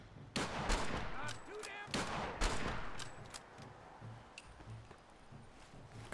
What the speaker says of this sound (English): Wells is shooting at us.